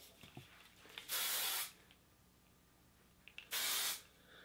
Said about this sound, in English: I'm going to give a shot of hairspray